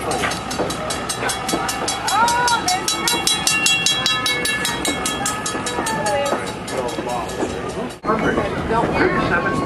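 A Strasburg Railroad steam locomotive train runs close by with a loud, steady rumble and rail clatter, high whistle tones sounding through, and a brief break near the end before the noise resumes.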